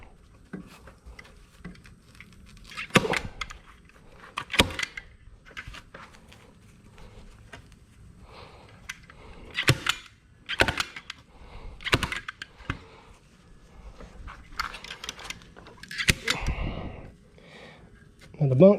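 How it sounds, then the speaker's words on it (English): A staple gun fires sharp, separate snaps while carpet is fastened onto a boat trailer bunk, the bursts coming irregularly a second or two apart amid quiet handling noise. "you want to make sure you staple the edges really well"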